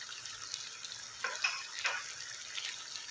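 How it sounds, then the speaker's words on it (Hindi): Siri paye masala with green garlic and chillies is sautéed in a pan, giving a soft, steady sizzle with a few louder stirring scrapes partway through, fairly faint and without talk. "इसको अच्छे से इसकी भुनाई करनी है।"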